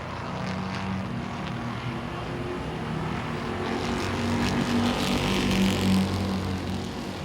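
Super street race cars circle the track at Langley Speedway, a steady blended engine drone heard from a distance, swelling slightly as the field passes, with no talking.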